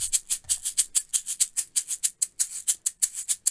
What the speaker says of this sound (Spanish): lo que tengo en mi mano es un pequeño shaker